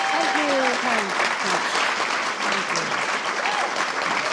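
Audience applause at a festival conversation event: a dense, sustained wash of clapping from a crowd, with a voice talking over it throughout.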